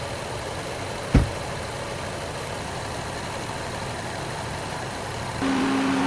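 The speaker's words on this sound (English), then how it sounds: "The clutch now engages as it should." A Honda Accord V6 engine idles steadily with a low hum, broken by a brief sharp click near the start, then a new steady tone joins as the AC compressor clutch engages.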